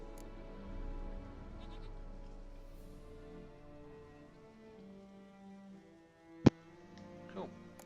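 A goat bleats in The Witcher 3 video game, short faint calls over a quiet ambient game background, followed by a sharp click and a bit more bleating near the end.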